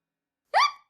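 A single short, sharp hiccup from a cartoon character, loud and close in otherwise complete silence.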